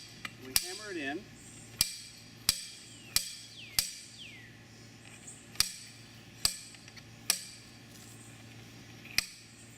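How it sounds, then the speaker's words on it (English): A tensiometer being hammered into bare soil at an outdoor field site, with about ten sharp, ringing metallic strikes spaced roughly a second apart, close and distinct over quiet background. "And now we'll drive this in. And we just simply raise it up and push it down. We hammer it in."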